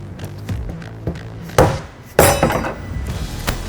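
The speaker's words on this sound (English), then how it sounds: "use a pry bar and a rubber mallet, and we're just going to hammer this locking ring off" Rubber mallet striking a pry bar to knock the locking ring off a fuel tank on a 2011-16 Ford Powerstroke 6.7L, a few sharp metallic blows at irregular intervals, two louder hits near the end, close by.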